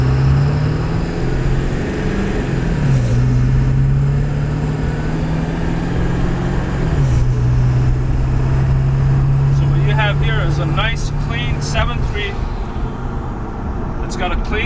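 A 2000 Ford F250 Lariat crew cab 4x4 with a 7.3 diesel drones loudly from inside, its engine note climbing and shifting as it accelerates, with speech over part of it.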